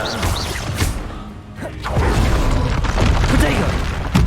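A rapid barrage of combat spells in Hogwarts Legacy, including ice, disarming, fire and blast spells: whooshes, thuds and shattering impacts pile up into a loud, churning roar, with incantations voiced throughout.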